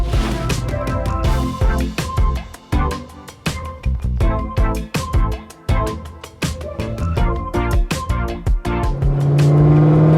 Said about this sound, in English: the first thing I want to discuss is this loud car